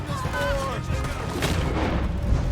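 Gunfire during a Red Dead Redemption 2 shootout: a dense, rumbling volley of shots and booms that carries on steadily, with a voice shouting over the top.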